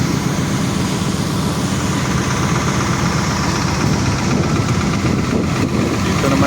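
An industrial compressor runs in a compressor area, giving a loud, continuous, steady mechanical drone with no break from start to finish.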